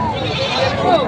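A native goat bleats in one short, wavering cry at a livestock market in Padre Garcia, Batangas, loud and close against a background of crowd babble.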